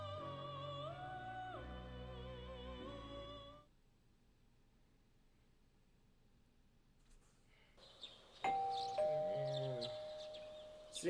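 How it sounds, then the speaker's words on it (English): A doorbell chimes at a house in the Persona 4 Golden video game, a bright electronic ding-dong that breaks over soft game music after a quiet stretch. "You hear the doorbell ringing."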